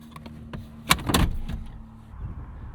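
The rear hatch glass of a Lexus GX 550 opens with a couple of soft clicks and a short latch clunk, followed by a brief mechanical rustle, quiet and close, with no talking.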